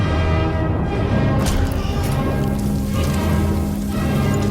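Steady rain falls in a RAID: World War II trailer scene, a dense continuous patter and hiss layered over music and low rumbling, with a brief splashy burst partway through.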